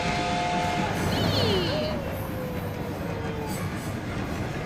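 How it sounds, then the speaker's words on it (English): Train from an anime episode rumbles steadily with a continuous low roar, a brief high screech and a descending whistle-like tone over it, mixed with faint voices. "Hey, what's that? Is that a train?"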